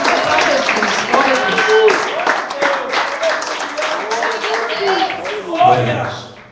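A Pentecostal church congregation claps in praise during worship, a dense, continuous patter of many hands under loud overlapping voices and talking.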